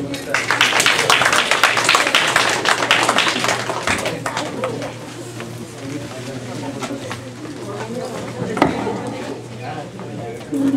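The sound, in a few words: audience applause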